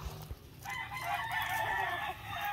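Fighting-breed gamecocks offered as breeders, with a rooster crowing in one sustained call that starts after a brief low thump, loud and fairly close.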